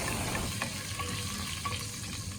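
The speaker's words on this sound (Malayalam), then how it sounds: "എല്ലാം കൂടെ ആ ഗീയിൽ നിന്ന് നന്നായിട്ടൊന്ന് മൂപ്പിച്ചിട്ടെടുക്കാം." Whole spices frying in ghee for a one-pot mutton pulao, a steady close crackling sizzle with faint stirring clicks, continuous and even throughout with no talking.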